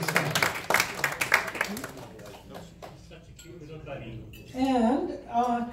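An audience at a Toronto club meeting breaks into a brief round of clapping that fades within a couple of seconds, followed by someone talking.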